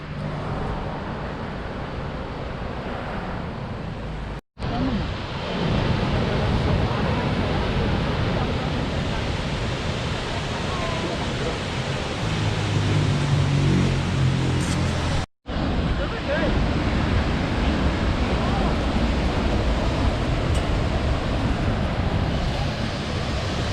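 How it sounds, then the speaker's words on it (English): Steady roaring rush of falling water at Looking Glass Falls, loud and continuous, with faint voices of a crowd blending into the wash of noise. "This is Looking Glass Falls"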